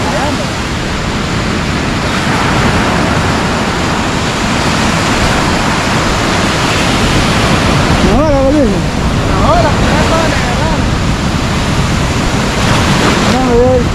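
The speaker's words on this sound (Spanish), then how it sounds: "Ahí cuando viene la ola" Ocean waves break continuously on the shore in a loud, steady roar of surf, with a brief voice rising faintly over the wash midway.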